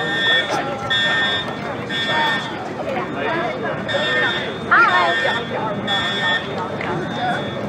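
A fire alarm sounds in repeated intermittent tones during a fire drill while many people talk and move nearby in a noisy crowd.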